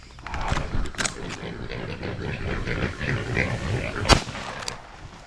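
Wild pigs, a sow and a boar, grunt and squeal during a hunt outdoors, a rough, continuous stretch of animal noise with a few sharper cries and one loud snap.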